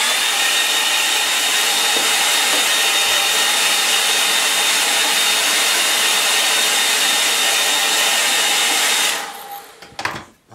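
A hair dryer blows steadily over a wet watercolor painting of trees and snow, a loud, even rushing whir that runs close-up for about nine seconds before switching off with a few brief clicks and handling sounds.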